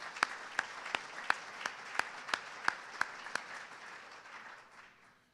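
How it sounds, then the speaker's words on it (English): An audience at the 2022 Missouri Valley Conference Hall of Fame breakfast claps in a steady, evenly spaced rhythm of about ten sharp beats over a softer bed of applause, which then thins out and fades. "please recognize them and give them your round of applause"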